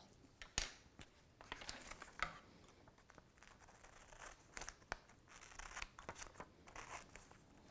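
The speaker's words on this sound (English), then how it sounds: "So I'm going to cut out the purple." Scissors snipping through purple paper for a polar bear art project, close and quiet, with irregular crisp cuts mixed with soft rustling and crinkling of the sheet.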